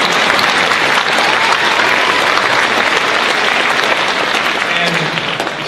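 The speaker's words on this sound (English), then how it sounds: "I think we should give Dr. Dillery a round of applause." An audience at a senior recognition ceremony applauds steadily, a loud, dense wash of clapping that holds for several seconds before easing slightly at the end.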